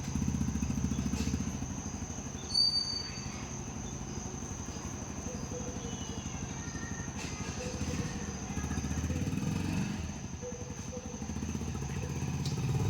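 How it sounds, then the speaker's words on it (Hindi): A motorbike is wheeled out at home and ridden off, its engine chugging with a steady low putter that swells and fades, insects chirping faintly behind and a brief clatter early on. "ये अपनी बाइक निकालते हैं।"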